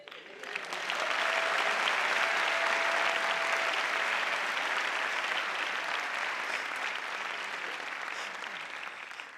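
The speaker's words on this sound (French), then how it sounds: "tu as vu les applaudissements?" Sustained audience applause at a stand-up comedy show, a dense wash of clapping that swells quickly and holds steady for several seconds before slowly thinning.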